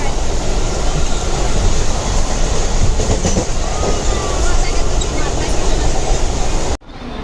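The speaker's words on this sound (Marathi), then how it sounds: "आता आम्ही दादरवरून डोंबिवलीला जाणार जी ट्रेन आहे त्या ट्रेनमध्ये चढलेलो आहे" Loud, steady rumble and rattle of a moving Mumbai local train heard from inside a carriage, Dadar to Dombivli, with faint clatter throughout, ending in an abrupt drop.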